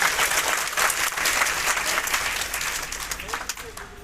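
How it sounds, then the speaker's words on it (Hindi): A loud, sustained burst of applause from an audience at a business network marketing gathering, dense, steady clapping that carries on for several seconds and tapers slightly near the end. "एक बार मैं चाहता हूं जोरदार ताली।"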